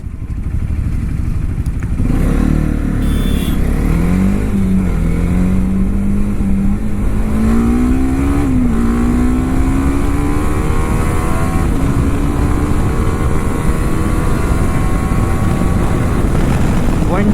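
A TVS RTX300 motorcycle's exhaust roars at full throttle, its pitch sweeping upward through the gears. The limiter kicks in during a long, loud, close run with no talk.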